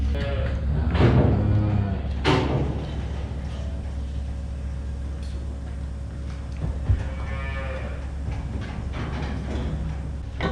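Dairy cattle, including Holsteins, moo in a barn with stalls, several drawn-out bellows rising over a steady low hum and background clatter.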